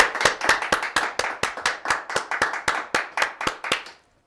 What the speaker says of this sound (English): Let's give a big round of applause for Nathan Teal for coming on down